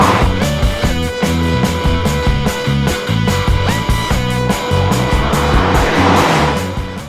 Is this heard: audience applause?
no